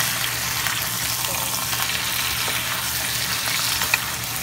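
Chicken for tinola sizzles steadily as it is stirred and sautéed in a pan, a dense even frying hiss with faint utensil scrapes.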